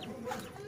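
Chickens cluck in a short, busy burst, a flock close by on a farm beside a pond being cleaned and enlarged, with faint background noise and no clear talk.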